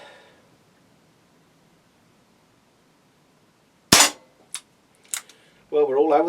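Umarex Smith & Wesson Model 586 air pistol fired from 6 yards: one sharp, loud crack followed by two lighter snaps in quick succession, with a voice starting up at the end.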